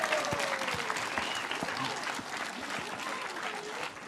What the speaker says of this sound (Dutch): Alweer een groot applaus voor Gerrit en Stoffel.